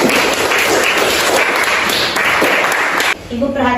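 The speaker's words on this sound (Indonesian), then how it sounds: "Kita berikan aplaus dulu sekali lagi untuk kelompok" Students applaud group 1 in a classroom, with dense, loud clapping that fills the room for about three seconds and then stops abruptly, while a voice speaks over it.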